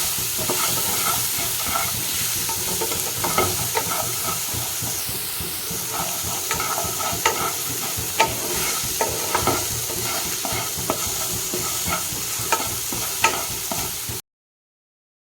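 Chopped tomatoes sizzle and hiss in a hot pan while being stirred for ragi upma. Steady close frying with scattered scraping clicks from the spoon runs throughout, with no talk.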